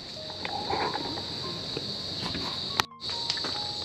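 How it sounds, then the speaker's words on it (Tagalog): Steady high-pitched crickets chirp continuously in the late afternoon by the sea, with faint scattered rustles and a brief thump near the end; no voices. "wala ka na ibang maririnig kundi kuliglig, tapos galaw ng hangin, galaw ng alon"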